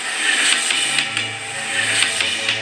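A steady mechanical hiss and rattle with a low electronic hum underneath, a Lego City Cargo Train 60198 track-noise effect playing continuously.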